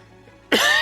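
A single sharp cough breaks out loud and close after a quiet stretch of faint background hum.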